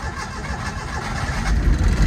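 A car engine, linked to a K24 setup, cranks and catches, then runs rough with an uneven, shaky idle that grows louder toward the end, close and alone with no talking.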